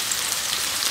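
Onions sizzle and crackle steadily in hot oil in a pan while fish curry (meen kulambu) is cooked, the spattering close and even throughout, with no voices.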